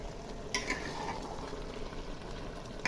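Bhuna khichuri, nearly dry, is stirred in a pot over a soft background sizzle, with a couple of sharp scrapes and clinks of the spoon against the pot, close and without talk.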